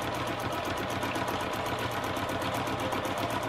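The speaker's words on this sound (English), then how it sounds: "I'm just going to be free motion quilting some squiggles, some going around, up and down" A sewing machine stitches steadily while free motion quilting fabric, giving a fast, continuous rhythmic chatter at close range without speech.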